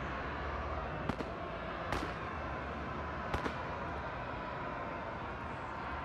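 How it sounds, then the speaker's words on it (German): Firecrackers going off in the riot game RIOT - Civil Unrest, three or four sharp cracks spread over several seconds against a constant loud crowd-like roar. "Böller."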